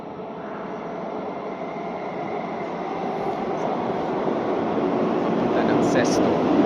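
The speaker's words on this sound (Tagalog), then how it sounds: "Paparating na ang tren." A Milan metro train arrives at the station, a rising, rumbling roar that builds steadily and grows louder as it nears, with a brief high squeal near the end.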